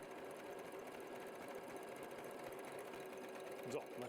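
A W6 N 9500C QPL sewing machine stitches a decorative pattern into fabric with a quiet, steady mechanical whir and rapid needle ticking, heard alone.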